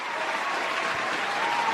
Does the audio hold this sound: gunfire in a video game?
no